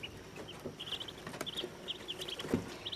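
One-day-old Muscovy ducklings peeping, a cluster of high, thin chirps repeating close by over a constant background rustle and hum.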